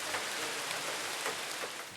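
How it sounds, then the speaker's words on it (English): Rain falls steadily with a soft, even hiss during a hunting outing, faint and constant with no voices heard. "The rain was really, really setting in."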